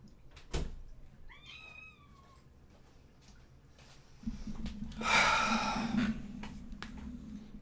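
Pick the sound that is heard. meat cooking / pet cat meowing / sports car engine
pet cat meowing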